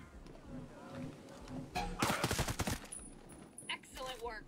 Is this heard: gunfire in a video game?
yes